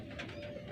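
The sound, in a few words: pigeon cooing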